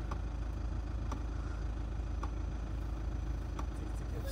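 Low, steady rumble of a Toyota 4x4 engine idling on a snowy village road in Racha, faint and continuous with a few soft clicks over the hum, no speech.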